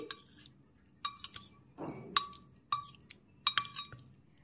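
A spoon stirs ingredients in a bowl, tapping the side in sharp, irregular clinks with soft wet squishing in between, close and fairly quiet.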